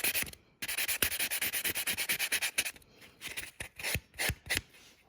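A nail file rubs across a gel nail in quick, rhythmic scratchy strokes, a dense run of rasping passes followed by a few slower, separated strokes, close and fairly quiet.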